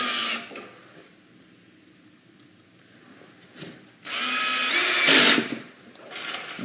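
Power drill driving screws into wood, pulling two pieces of a built-in window seat together: a short whine, a pause, then a louder sustained burst of about a second and a brief final spurt, with no talking.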